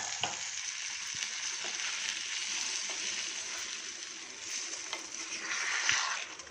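Savory wheat pongal thinned with milk and water bubbles and sizzles steadily in a pan, a continuous close hiss with faint stirring clicks and no voices.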